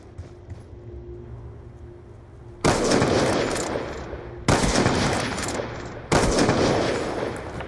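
Three loud, close bursts of automatic gunfire in Call of Duty Black Ops II, each a sustained crackling volley separated by short pauses over a quiet background hum.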